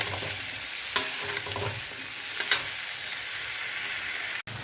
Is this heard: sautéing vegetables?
yes